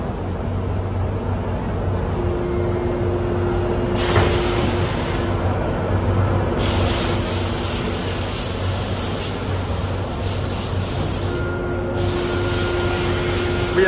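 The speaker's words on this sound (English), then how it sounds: "It's just about finishing spraying up now." A steady mechanical hiss from an automated paint spraying machine with a low machine hum underneath, bursts of brighter spray noise switching on and off at intervals.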